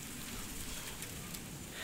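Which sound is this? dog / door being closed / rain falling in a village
rain falling in a village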